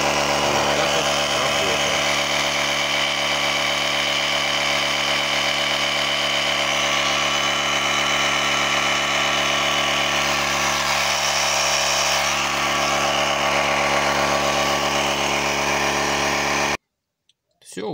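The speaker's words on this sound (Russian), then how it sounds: "Сейчас мы подкачаем задние колеса и продемонстрирую, как он работает." A Carmega APF-150 portable car compressor, powered from the cigarette lighter socket, inflates a car's rear tires with a loud, steady motor drone and rattle running unbroken for about seventeen seconds before cutting off abruptly.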